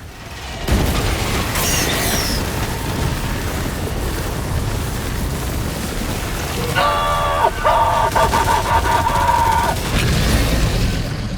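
A flamethrower fires at a horde of bugs in a video game, a loud continuous roaring rush running throughout, with harsh crackling bursts layered on top in the second half.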